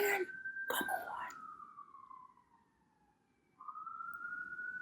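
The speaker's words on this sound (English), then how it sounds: "Perfect time for a siren to go by." An emergency siren passes along a New York City street, its wailing tone gliding down and then starting up again, loud and near with a short gap before the next rise.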